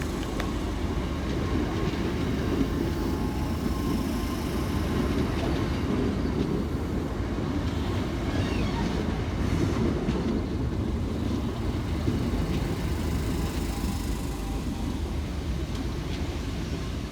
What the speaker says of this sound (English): here comes 465932 and 465902, arriving to terminate with a Southeastern service off London Charing Cross